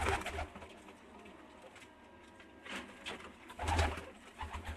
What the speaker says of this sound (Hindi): प्रिंस कबूतरों का सेटअप है जी। एक कमगर कबूतर सारे